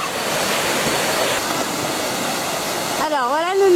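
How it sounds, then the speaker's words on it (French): Waterfall in Laos, a steady broadband rush of falling water close by, ending with a short rising and falling whistle-like sound. "On est dans une cascade."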